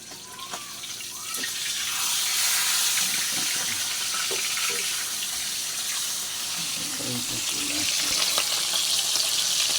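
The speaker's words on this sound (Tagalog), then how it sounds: "Pritong tilapia." Tilapia frying in a pan with a steady broad sizzle throughout, close and fairly loud, with small clinks and utensil sounds over it.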